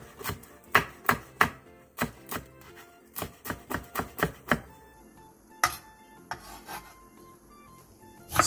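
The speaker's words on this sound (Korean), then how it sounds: "양파 4분의 1개를 얇게 채 썰고 대파 2분의 1개, 청양고추 2개를 어슷 썰게 해주세요" A knife slices a quarter onion thinly, then cuts half a green onion and two green chili peppers on the bias on a cutting board, with sharp, distinct chops in an irregular rhythm, close and alone.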